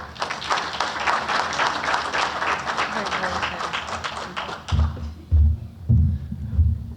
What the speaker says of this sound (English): thank all of you for still clapping, because that's a lot of clapping